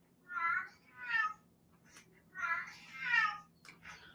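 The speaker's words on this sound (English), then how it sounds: "And now my cat's going to be noisy, so you can hear her." A pet cat meows several times in a quiet indoor room, with distinct separate cries, two early and two louder later, over a faint low hum.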